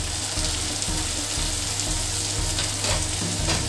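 Chopped tomato sizzling and frying in a pan for masala pasta, a steady loud hiss with low rhythmic stirring scrapes throughout, no voices.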